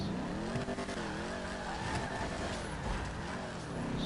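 A car engine in GTA Online revs for a wheelie, its pitch rising and dipping in wavering sweeps over a gritty road-noise bed, steady and fairly close with no talking.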